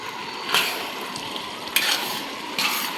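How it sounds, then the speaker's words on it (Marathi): Potato paneer bhurji being stirred in a frying pan, with a steady low sizzle and three distinct scraping strokes of the spoon against the pan. "आता हे सुंदर त्याला मस्तपैकी ढवळून घेतो"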